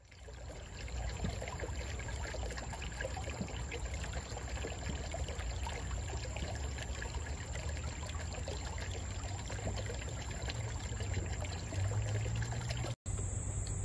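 Creek water trickling and streaming steadily, a continuous close-up babble of flowing water over the whole stretch, with a brief cut near the end and no talking.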